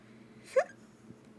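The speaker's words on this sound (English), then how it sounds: "Hiccups." A single short hiccup, close and sharp, rises briefly above a quiet background hum during a drawing session, then fades back to near silence.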